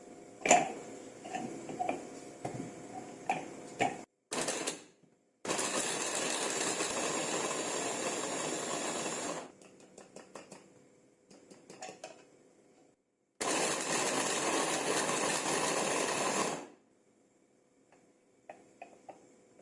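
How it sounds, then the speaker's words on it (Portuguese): A food processor chops calabresa sausage in a home kitchen. It runs in two long, loud, whirring bursts of several seconds each, with quieter clattering and handling noises between them. "Eu piquei assim para poder facilitar na hora de colocar no processador"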